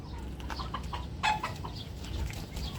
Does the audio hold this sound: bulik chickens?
yes